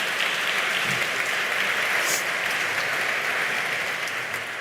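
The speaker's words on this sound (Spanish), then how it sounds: "Antes de empezar, un fuerte aplauso para todos ellos, para calentar motores." Warm, sustained applause from the audience at a bread festival talk on flour, a dense even roar of many hands filling the room from start to finish.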